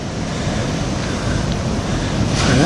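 Ocean surf breaking at Port Ouest on Réunion at dusk, a loud continuous roar of waves with heavy wind buffeting the microphone and a swell building toward the end.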